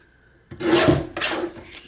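A paper trimmer blade slices through a sheet of card stock for drop paper art cards, a short close raspy rub-and-scrape lasting about a second, then a second fainter stroke.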